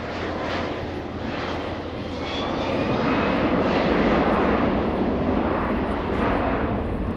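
A NATO MRTT tanker flies with four F-16 escorts at the Sanicole Airshow, a steady loud jet roar that swells slightly as the aircraft pass, with no voices over it.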